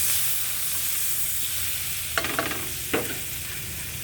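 Chopped garlic sizzles in margarine in a pan for Bicol-style pork steak, a steady close hiss broken near the middle by a few quick utensil scrapes and clinks, with no talking.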